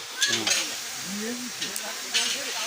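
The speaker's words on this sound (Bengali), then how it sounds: "আমাদের ঠাকুর মশাই সব এখানে রান্না বান্না করতেছে দেখতে পাচ্ছেন" Food stirred and sizzling in large pots over a fire for a temple puja feast at the Bishalakshi temple in Indrapur, with scraping stir strokes and a steady frying hiss, close and fairly loud, with faint voices nearby.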